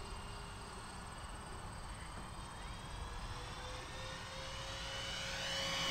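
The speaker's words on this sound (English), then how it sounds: "Set back up, come for a downwind hot pass." A Dynam P-61 Black Widow RC warbird, a 1500mm 4S electric model, makes a downwind hot pass, its steady motor drone building gradually louder as it approaches overhead.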